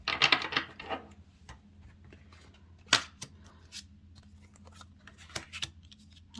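Crisp slaps and snaps of tarot cards being set down one after another, irregular taps and flicks, close and quiet in an otherwise still room.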